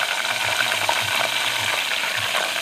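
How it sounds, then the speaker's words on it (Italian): Artichokes deep-frying Roman Jewish style in very hot oil, a steady dense crackling sizzle with small irregular pops, close and continuous, no voices. "adesso guardate come frigge. Adesso si sta friggendo"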